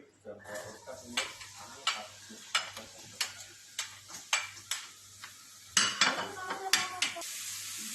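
Onions fry in hot oil as a spoon stirs them in a pan, making a soft continuous sizzle broken by regular, close scraping strokes about every half second, which grow busier toward the end.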